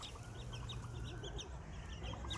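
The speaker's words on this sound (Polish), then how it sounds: "ze mną jest stado kaczek" A flock of ducks quacks and clucks continuously at a moderate distance, overlapping calls over a faint low rumble.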